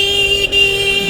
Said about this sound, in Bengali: হর্নটা একটু জোস লাগালে ভালো করতো।